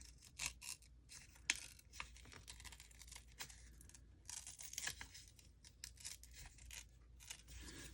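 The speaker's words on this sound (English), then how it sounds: "just kind of move this ruler around and still tear against it, especially with this fragile paper." Fragile craft paper torn against a ruler, a run of quick ripping and rasping strokes with short pauses between, close and fairly quiet, no voices.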